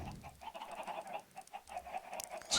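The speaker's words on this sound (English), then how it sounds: "Why do I have eggs? Stupid chickens." Chickens in the Minecraft video game cluck in a steady run of short, soft, repeated calls, fairly faint and alone, with a brief brighter click near the end.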